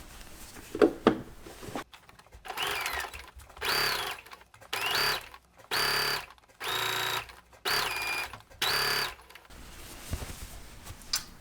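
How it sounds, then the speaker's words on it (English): A sewing machine stitches a knit hem with stretch thread, running in about six short whirring bursts separated by pauses, close and moderately loud, with faint handling noises at the start and end. "we're going to do 1 line of stitching below this"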